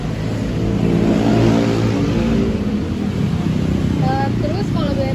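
An old vintage motorcycle from the colonial era, kept as a heritage vehicle, runs with a steady loud low engine rumble close by, revving slightly, while a person talks over it.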